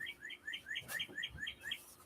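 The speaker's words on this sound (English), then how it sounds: "You hear the birds out there?" Birds chirp outside in a quick repeating series of bright rising tweets, about eight calls in two seconds, fairly faint and distant with no talking.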